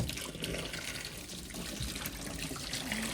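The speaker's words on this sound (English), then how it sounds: "So let's remove the water." Water poured out of a container after an Oust all-purpose descaler sachet treatment, a continuous splashing gush that stays fairly loud and steady throughout, with no talking.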